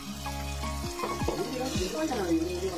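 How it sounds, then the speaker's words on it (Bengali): Chicken liver and gizzard sauté with spices in a pan, giving a steady close sizzle and frying hiss with occasional stirring scrapes throughout. "এবার ভালো করে এটাকে আমরা কষিয়ে নেব"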